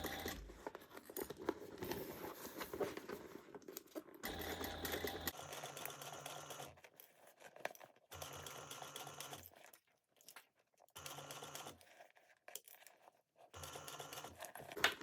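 Domestic sewing machine stitching a 1/8-inch seam around a fabric bag, whirring in several bursts of steady rapid needle chatter separated by short pauses as the bag is turned, fairly close and alone.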